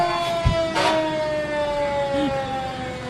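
A fire engine's siren wails as the truck rolls by in a nighttime parade of lights, a steady sustained tone gliding slowly downward over crowd and street noise, with a brief horn-like blip near the end.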